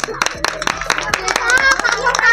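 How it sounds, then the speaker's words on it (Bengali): Sharp rhythmic hand claps from a small group at a children's balance-challenge game, rapid and close, mixed with voices talking over them. "হাততালি।"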